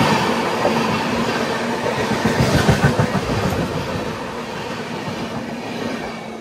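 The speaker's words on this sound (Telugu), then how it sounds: "మనకి టాటానగర్ ఎర్నాకుళం ట్రైన్ తోటి క్రాసింగ్ పెట్టాడు, అందుకోసం ఇక్కడ వచ్చి ఆగింది." Tatanagar–Ernakulam express train passing a railway crossing in India: a loud, close, continuous rumble of wheels and carriages with clattering rail noise that swells near the middle and stays steady throughout.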